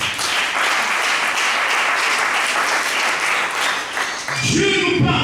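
A church congregation applauds the Lord in a sustained round of loud, dense clapping, then a voice breaks in near the end.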